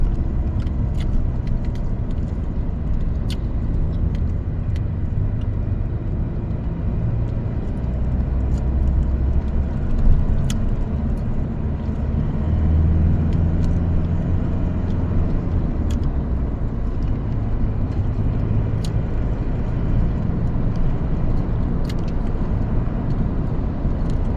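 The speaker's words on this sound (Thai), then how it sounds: "รถติดสุดยอด" Heavy morning traffic jam at a red light, a low continuous rumble of idling and slowly moving cars heard from inside a vehicle, with occasional faint clicks and no talking.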